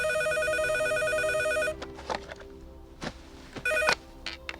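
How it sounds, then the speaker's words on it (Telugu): A telephone rings with a rapid electronic trill for under two seconds, then stops, followed by scattered thumps and footsteps nearby. "ఫోన్ చూడు"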